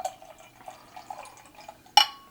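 Dark barrel-aged imperial stout from Prairie Artisan Ales (Bible Belt) pours into a glass with soft liquid trickling and gurgling, ending in a sharp clink near the end.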